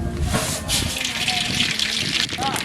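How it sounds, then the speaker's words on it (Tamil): Mustard seeds crackle and splutter in hot oil in a pan, a dense sizzling hiss with popping, heard close up with a voice speaking over it. "கடுகு நல்லா பொறிஞ்சிருச்சு"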